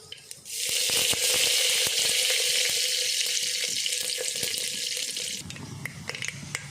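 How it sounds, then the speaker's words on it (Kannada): A loud, bright sizzle erupts as curry leaves hit hot oil for a sambar tempering after mustard seeds have spluttered, hissing steadily for several seconds before dying down, with small pops and crackles throughout. "ಸ್ವಲ್ಪ ಕರಿಬೇವನ್ನು ಒಗ್ಗರಣೆ ಒಳಗೆ ಸೇರಿಸ್ಕೊಳ್ಳೋಣ"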